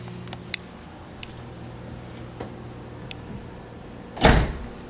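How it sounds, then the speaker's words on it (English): A low-mileage Dodge Dart Sport's car door thuds shut once, solid and close, after a few light clicks and a quiet hum. "Doors close really nice, just like a low mile car should."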